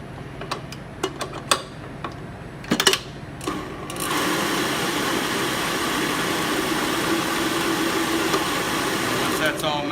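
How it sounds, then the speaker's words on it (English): Stand mixer working unbaked tart dough: a few light clicks and knocks, then a steady motor whir starts partway through and runs evenly to the end. "Back onto the mixer."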